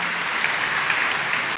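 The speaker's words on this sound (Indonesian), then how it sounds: "Tepuk tangan yang paling meriah dulu buat Tuhan." Enthusiastic applause from a church congregation during a sermon, dense and sustained clapping throughout.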